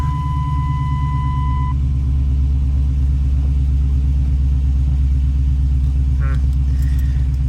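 A 1994 Chevrolet Blazer two-door with a hard shift kit rumbles steadily from inside the cab as it pulls away, a loud, constant low engine drone with a brief beep early on.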